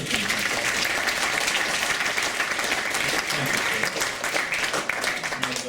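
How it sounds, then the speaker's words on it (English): Audience applause for a speaker leaving the stage before the next one is introduced: a full, sustained roar of clapping from a large crowd, loud and even throughout, with faint voices mixed in. "could I get an applause for Steve?"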